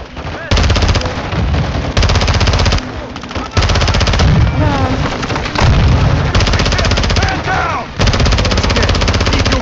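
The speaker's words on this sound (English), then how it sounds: "They're launching grenades!" Loud Call of Duty MW2 battle with sustained bursts of machine-gun fire and heavy grenade explosions, near and dense, with brief pauses between volleys and faint shouting voices underneath.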